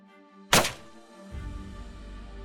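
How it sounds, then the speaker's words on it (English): A single sharp, loud gunshot cracks out suddenly in the Australian wetlands, followed by a rumbling low tail and steady background noise. "The gunshot rips through the silence of the Australian wetlands."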